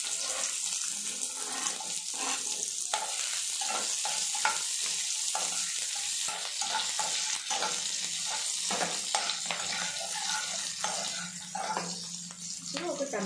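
Sliced onion sizzles in a hot pan for pesarattu dosa chutney, a steady frying hiss broken by repeated scraping and stirring strokes from a spatula, close and fairly loud.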